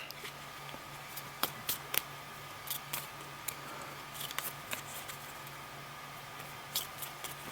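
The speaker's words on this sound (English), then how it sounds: "So I need to shuffle." A deck of game cards for a Matrix deck-building board game being shuffled by hand, a quiet run of crisp irregular snaps and riffles close by.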